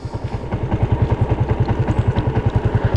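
A vehicle engine runs steadily while driving along the coast near the Kra Isthmus in Ranong, Thailand, giving a close, loud, rhythmic pulsing throb with some clatter and no talk.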